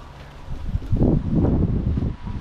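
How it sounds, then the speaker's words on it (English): Gusts of wind buffet the microphone outdoors on a sunny walk, a brief swelling rush of low, rumbling noise that rises and fades. "Windy today."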